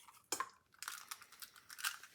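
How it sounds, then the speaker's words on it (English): An egg cracked against a bowl and dropped in, with a sharp crack followed by scattered small crunchy shell and wet sounds, close and quiet, with no talking. "I'm going to crack an egg into the bowl."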